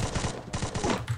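Rapid bursts of gunfire from the Free Fire mobile battle royale game, loud and close, firing in quick repeated volleys with short gaps across the whole second.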